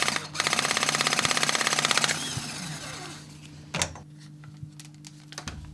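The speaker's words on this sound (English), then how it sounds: "use Rothenberger B-Press" A Rothenberger B-Press tool pressing a copper pipe fitting gives a loud, fast mechanical rattle for about two seconds, then a few faint clicks and a single sharp clack.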